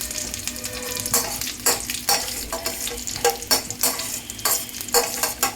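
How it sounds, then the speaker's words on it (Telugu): Dried red chillies frying in oil in a pan for a coriander-mint-tomato chutney, giving a dense crackling sizzle with repeated spatula scrapes and stirs at a lively, uneven rhythm, close up and without speech. "ఎండుమిరపకాయలు వేయించుకొని తీసుకోవాలండి, మాడకుండా తీసుకోవాలి."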